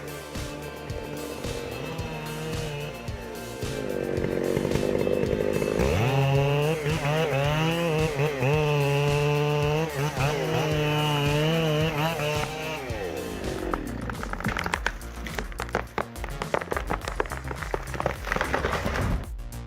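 A big chainsaw cutting a tree, its engine whining loudly and climbing in pitch as it bites into the wood, then dropping back, with clattering mechanical noise near the end.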